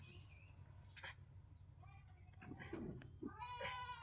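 A cat meows in a rural home, with a few faint mewing calls and a louder drawn-out meow near the end, heard over low background hum.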